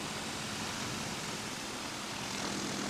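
A steady, loud engine drone with a propeller-like roar from a Magni M16 gyrocopter revving up to 2000 rpm, held at high revs throughout without pause.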